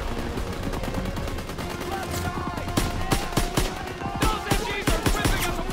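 Rapid gunfire bursts and single shots from the WWII shooter Call of Duty: WWII, dense and loud throughout, with sharper cracks and heavier volleys building in the second half over continuous battle noise.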